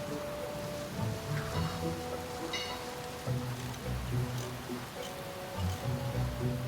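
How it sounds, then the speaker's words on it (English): Steady, dense rain pours down at night with wind, a continuous hiss at even loudness throughout, accompanied by low sustained musical tones beneath it. "That night, the wind blew and the rains pounded down."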